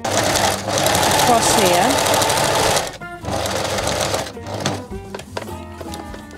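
A sewing machine stitches a patchwork pincushion in a rapid, loud mechanical whir that runs steadily, pauses, then resumes in shorter bursts, with a voice speaking over parts of it.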